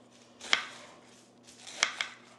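A knife slices through cabbage on a board in two short bursts of crisp crunching cuts, close and clear, with no talking.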